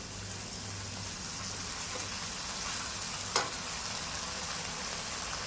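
Rice mixture with soy sauce and salt being stirred and fried in a pan for chicken fried rice, a steady hiss of sizzling with one brief scrape of the spoon, no talk.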